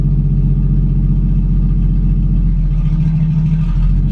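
A pre-war car engine idles as the clutch is eased out, a loud steady low rumble close by that deepens and labours slightly toward the end.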